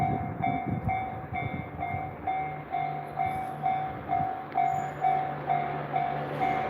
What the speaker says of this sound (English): Could be a goods train.